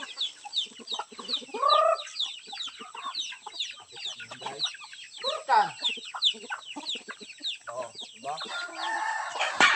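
Palawan native chickens and chicks on a farm, with a busy stream of high chick peeps and hen clucks, a rooster crowing and broad calls rising out of the mix. The sounds come close and at a middle distance, with no talk over them.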